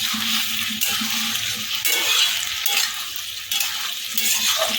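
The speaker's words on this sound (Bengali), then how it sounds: "একটু ভালো করে এটাকে দিয়ে নাড়াচাড়া করে নেব" Chilli cauliflower sizzles in a pan while being stirred, giving a steady crackling fry with intermittent scraping stir strokes, close and moderately loud, with no talking.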